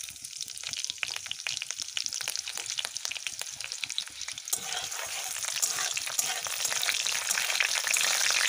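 Green chili and cumin seeds tempering in hot oil in a wok, a steady loud sizzle and crackle of frying with stirring, no voices.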